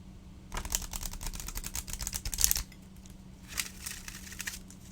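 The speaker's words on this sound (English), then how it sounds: "It's a lovely shuffle." Plastic-coated Dog Wisdom oracle cards are riffled and shuffled close by, a fast run of crisp flicking clicks for about two seconds, then a few softer bursts of card noise.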